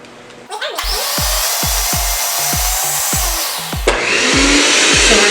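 Electric hand mixer whirring through dry cake ingredients in a bowl for a vanilla berry cake, a loud close motor drone with rhythmic knocking of beaters against the bowl, briefly stopping then restarting.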